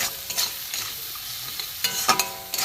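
Chilli and ground spices frying in a pan over low heat, soft sizzling broken by several scraping stirs of a spoon, close and clear, with no voices.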